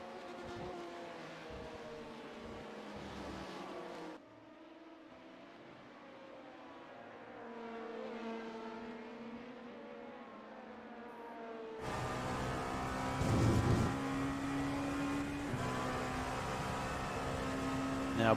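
LMP2 prototype race cars lapping Spa in a sim racing game, engines droning and shifting pitch continuously, with a louder, brighter stretch of engine roar near the end.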